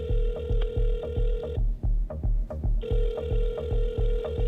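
A phone call rings back through the handset in a steady pattern of pulsing tones, a long ring, a short pause, then ringing again, clear and up close with no talking.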